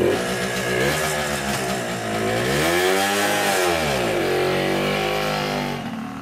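A Hodaka Ace 100 motorcycle engine running close by, its two-stroke buzz swelling through a couple of rising and falling revs before easing off at the end.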